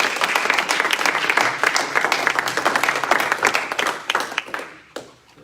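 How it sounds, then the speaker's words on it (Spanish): A church congregation applauds loudly and continuously for several seconds, the dense clapping thinning out and stopping near the end, with a voice briefly heard underneath. "Den un aplauso a Jesús"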